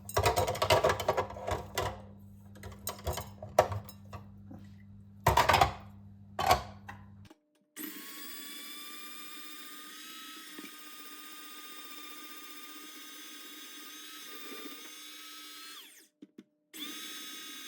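Electric grater shredding cheese with a steady high-pitched motor whirr and grinding rasp that runs for several seconds before cutting out, preceded by brief clatter and handling noises.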